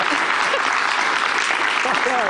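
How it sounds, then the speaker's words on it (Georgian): Sustained, loud applause from a late-night TV show studio audience, clapping that keeps going without a break while a host speaks over it. "თავდაუზოგავი აპლოდისმენტები, რომელიც ჯერ არ გაჩერებულა."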